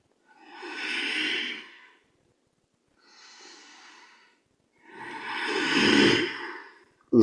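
Slow, deliberate yoga breaths: a long breathy exhale, a softer, quieter breath after a pause, then another long, strong exhale, all close and alone.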